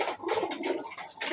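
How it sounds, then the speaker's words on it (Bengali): A pet pigeon coos in its cage, several soft throaty coos in a close, steady rhythm with no other sounds. "এইখানে আমার একজন কবুতর আছে, এখানে খাঁচা মধ্যে"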